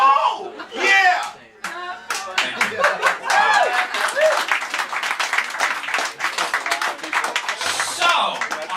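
A live audience at a comedy or poetry show claps and cheers loudly, with individual sharp claps and shouts over continuous applause while a performer's voice talks and whoops over the top.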